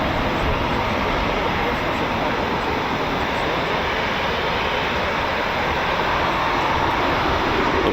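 Eurofighter Typhoon FGR4 jet with twin-spool Rolls-Royce EJ200 engines at RAF Coningsby spools up in a constant, loud, broadband roar throughout.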